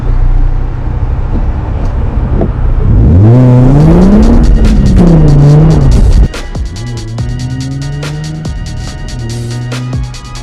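A Nissan 350Z with a welded differential, loud and close: the engine revs and climbs through gears for a few seconds, then drops to a lower, steady drone with repeated clicks and rattles as the car rolls on.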